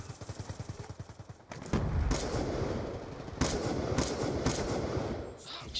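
Rapid video game gunfire, a quick rattling burst of shots followed by denser, sustained firing and booming blasts, loud and continuous throughout.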